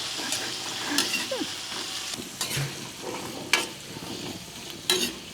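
Food simmering in a pot with Filipino home cooking, stirred with occasional scraping and clinking, low bubbling and sizzle throughout, close and fairly quiet with no talk.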